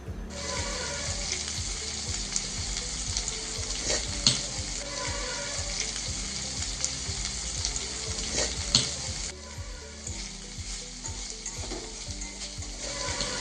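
Marinated chicken pieces frying with browned onions in a pan, a loud continuous sizzle under rhythmic spatula stirring and scraping.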